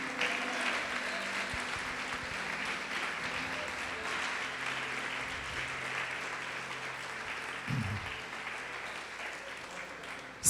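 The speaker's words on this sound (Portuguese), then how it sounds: "Você pode aplaudir o Senhor Jesus por isto?" Congregation in a church applauding for a long stretch, a steady, continuous roar of many hands clapping that holds at an even level, with no voices rising above it.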